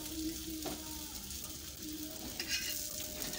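Anda shami kababs fry in oil in a pan, giving a steady, soft sizzle close by with a couple of faint clinks, and no talking.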